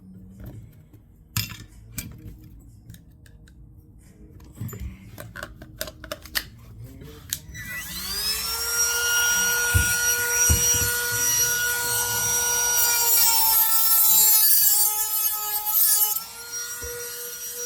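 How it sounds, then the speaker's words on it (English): A handling clatter of small clicks and taps, then a battery rotary tool with a sanding wheel spins up to a steady high whine while grinding a factory car door panel, its pitch shifting as it loads and lightens. "This little guy right here, this little sanding wheel"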